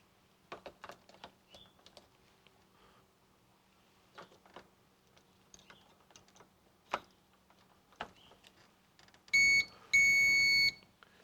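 Scattered plastic clicks and taps, then two short electronic beeps near the end as a Tru Bolt electronic door lock powers up, close and clear.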